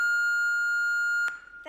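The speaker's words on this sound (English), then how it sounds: "That was a very loud beep." A loud, steady electronic beep holds one pure tone for over a second, then cuts off with a sharp click, followed by faint rustling.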